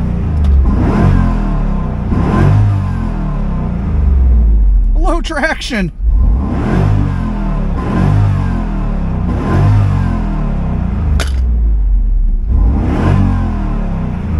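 A 1996 Chevrolet Camaro Z28 Anniversary convertible engine revs repeatedly in a steady rhythm of rising bursts, loud and close, with a person speaking over it.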